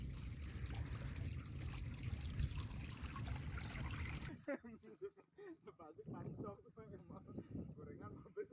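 Water from a shrimp pond draining steadily out as the tide ebbs, a broad rushing flow for the first half that then drops away to a thin trickle with someone talking over it.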